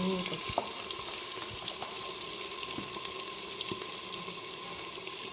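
Marinated mutton going into a hot pot with cloves, cardamom and cinnamon, giving a steady sizzle and hiss with a few soft clinks, continuous and close.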